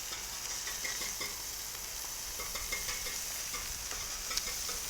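Bacon frying on a flat griddle, a constant even sizzle and hiss throughout with faint scraping, no voices.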